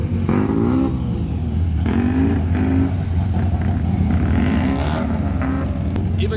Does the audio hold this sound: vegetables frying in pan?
no